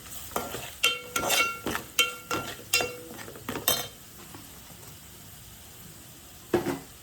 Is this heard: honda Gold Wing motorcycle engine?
no